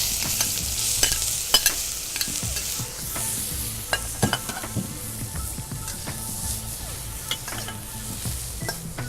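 Chili and sauce being stirred in a hot oiled wok, with a continuous sizzle under repeated scraping and knocking of the utensil against the pan, close and fairly loud.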